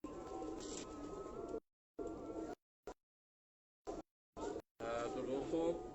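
Pigeons coo in soft, repeated bursts, broken by short silent gaps, while someone talks over them at close range.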